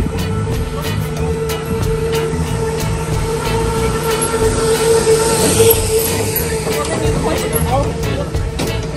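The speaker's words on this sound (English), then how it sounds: "There's a tram car right there." A tram car rumbles past on the Wildwood, New Jersey boardwalk with a steady mechanical drone and clicking wheels on rails, joined by faint street noise and distant voices.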